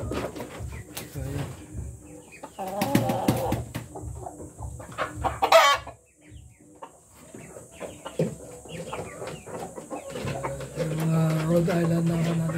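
Rhode Island Red breeder chickens in a cage cluck repeatedly and close by, with a rooster crowing partway through and a person talking intermittently over the flock.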